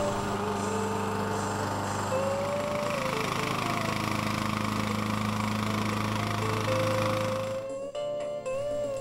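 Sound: Craftsman YS 4500 lawn tractor rotary blades blowing snow

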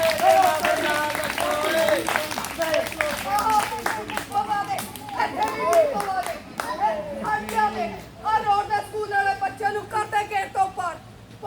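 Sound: audience clapping at a school street play

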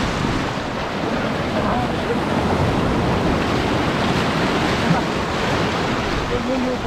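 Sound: sea waves at shore

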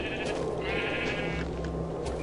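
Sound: sheep bleating in the video game Minecraft Tekkit

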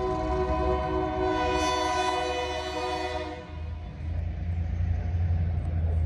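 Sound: switcher locomotive of a rock train notching up throttle

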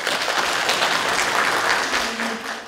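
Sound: applause at kindergarten event opening

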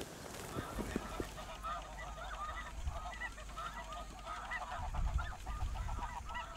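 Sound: snow geese honking in flight

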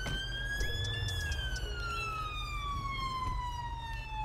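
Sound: police car siren in GTA 5, video game

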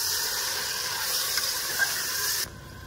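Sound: minced beef keema added to frying onions, sizzling

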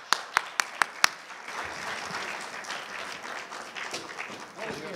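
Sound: audience applause at lecture

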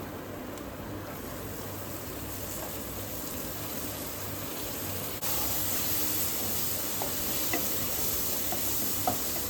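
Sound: spinach being sautéed in a pan with turmeric

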